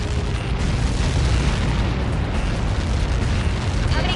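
A missile impact explosion in the Ace Combat 7 air-combat game: a loud, dense, sustained rumbling blast roar that fills the whole stretch evenly without letup.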